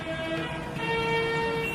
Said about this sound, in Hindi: जब हम ट्रैक कर रहे थे तो वहां पीछे सायरन की आवाज आ रही थी।